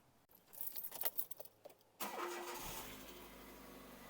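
Hyundai Getz engine starting after ignition coil and lead replacement: a jangle of keys and some clicks, then the starter cranks and the engine catches into a steady idle, close and clear.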